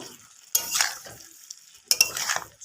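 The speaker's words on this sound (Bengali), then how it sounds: "মিশিয়ে নিচ্ছি মশলার সাথে একটু নাড়ি চাড়িয়ে নিচ্ছি" Cauliflower and potato tossed with spices in a pan, two bursts of metal spatula scraping and clinking against the pan separated by near silence, close and unaccompanied by talk.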